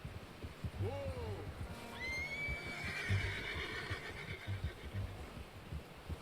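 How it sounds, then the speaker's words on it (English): Horse in Red Dead Redemption 2 gives a clear whinny near the start, a rising-falling neigh, with soft hoof clip-clops and background game ambience and voices throughout. "How's that new horse?"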